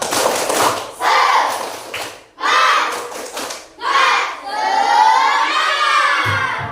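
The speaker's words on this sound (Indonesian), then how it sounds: "Bapak ada tepuk, namanya tepuk semangat" Children in a classroom perform the tepuk semangat chant, shouting and clapping together in several loud rhythmic bursts that finish in one sustained cheer.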